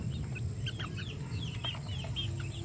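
Kelso and hatch chickens cluck at a mountain farm, several soft, short clucks close by over a low steady background rumble.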